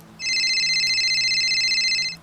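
A phone rings once in a tense creepypasta scene, a single sustained electronic trill that starts abruptly and holds steady for about two seconds against a quiet, low ambient hum.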